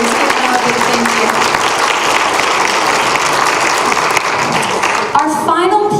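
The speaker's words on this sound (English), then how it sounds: "So a round of applause for you, and you can clap for your families." A school concert audience applauds in a dense, sustained burst at a middle school winter concert, loud and steady, fading at the end as a voice begins speaking.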